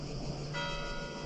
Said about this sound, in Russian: Колокола церковь.